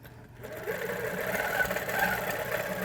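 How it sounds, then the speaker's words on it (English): HQ Avanté longarm quilting machine doing slow free-motion stitching at 3% runs with a steady, mid-pitched motor hum and light rhythmic knocking, close and continuous after a brief quiet start. "Then when I stop, it just does a slow stitching with the percentage"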